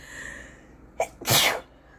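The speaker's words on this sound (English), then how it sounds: "We gotta fucking sneeze." A single loud sneeze, with a brief sharp intake of breath just before it, then quiet.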